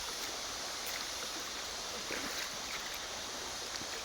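A forest stream flows steadily, its broad, even rush of water continuous and unbroken, with no voices.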